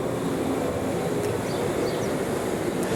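Steam locomotive Mike, a perky Mikado-type engine on a Central American railway, pulling out of the roundhouse lead: a steady, dense rumbling rush of machinery noise with a faint hiss on top, continuous and moderately loud throughout, with no talking.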